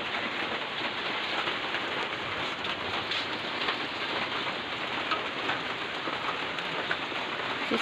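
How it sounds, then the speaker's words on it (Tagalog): Steady rain pours on and around a house, a dense, even hiss of drops striking surfaces, fairly loud and constant throughout with no talking. "Ang ulan."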